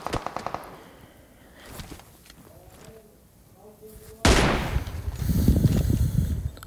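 Gunfire in the battle-royale mobile game PUBG Mobile: a burst of sharp shots near the start, then a loud sudden blast followed by sustained noisy crackle and rumble, with no talk.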